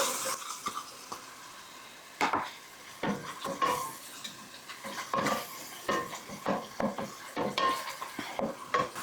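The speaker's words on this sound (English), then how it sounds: "I'm going to add in our peppers." Peppers go into a pan of sizzling garlic and ginger and are stirred, with repeated scraping and clattering of a utensil against the pan over a soft sizzle, close and fairly loud.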